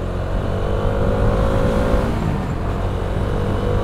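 Bajaj Dominar 400 motorcycle with a freshly replaced clutch plate pulling hard while overtaking on a road ride, a loud, steady engine roar with shifting pitch and heavy wind noise close to the rider, with no talking.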